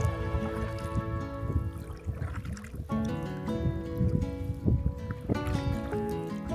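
A small boat's trolling motor runs on a trout-fishing lake, a steady tonal hum with a buzzing whine, mixed with light water trickling and dripping.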